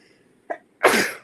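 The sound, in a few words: sneeze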